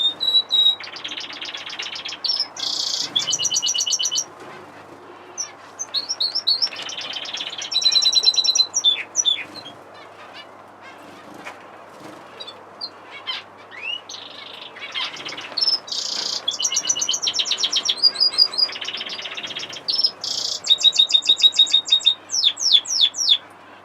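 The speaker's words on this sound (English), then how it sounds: "the Finch and Fife flight" Fife canaries and finches in an aviary flight sing in bright, trilling bursts that come and go in clusters, close and clear over a quiet background, with no talking.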